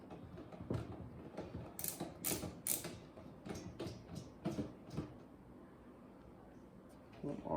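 Torx size 10 screws being undone on a car radio display, a series of quiet, close mechanical clicks and ratcheting scrapes in irregular bursts, with a little faint talk.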